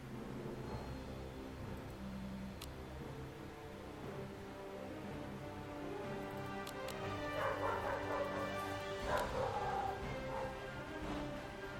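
A neighbour's dog barks and yips somewhere in the background, faint and intermittent beneath a steady layered hum of other sound.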